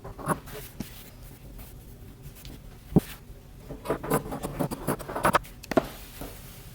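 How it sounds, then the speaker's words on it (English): Scissors cut through the fabric of a men's button-up shirt, a series of soft irregular snips and rustles close by, with some handling noise between cuts. "And then I'm going to cut up the sides to make it a straight rectangle."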